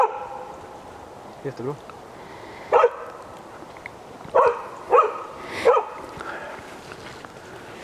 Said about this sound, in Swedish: Hon har ju ett helt annat skall nu än om hon jagar älg.